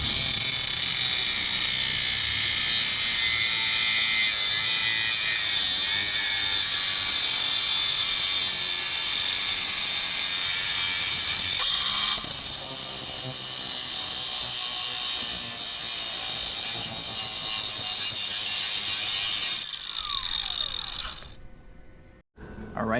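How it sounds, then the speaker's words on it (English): A power tool cuts steel for a flux-core welding project, a loud, sustained high-pitched grinding whine that runs unbroken for about twenty seconds, then cuts off and winds down as the tool stops. "we're gonna try to see if we can cut some of this metal off"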